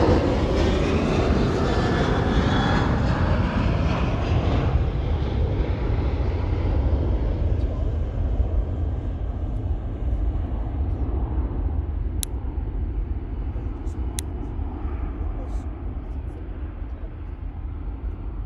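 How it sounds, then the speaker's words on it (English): A SunExpress Boeing 737 takes off at Munich, its jet engines roaring loud and broad at first, then steadily thinning and fading as the aircraft climbs away. "Let's go for the takeoff. We have Sun Express 737."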